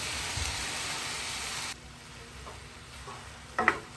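Okra soup sizzles and hisses in a pot, the hiss dropping suddenly as clam meat goes in, followed by soft stirring and a short clatter at the end.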